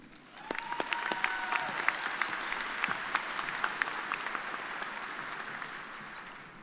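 A crowd at a spring 2018 agriculture commencement applauds a graduate speaker, with steady, dense clapping that rises quickly and holds before beginning to fade.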